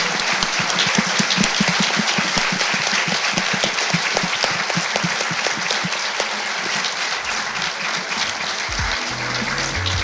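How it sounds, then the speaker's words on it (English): A closing round of audience applause for three scholars after a panel on religion and abortion, dense and sustained clapping throughout with a faint low rumble and murmur near the end. "I hope you will join me in giving them one last round of applause and thank you"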